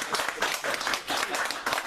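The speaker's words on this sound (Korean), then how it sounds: "박수 좀 한번 쳐주세요." Audience applause at a forum presentation, a burst of hearty clapping from a crowd that pulses slightly in intensity and stays loud throughout the short stretch.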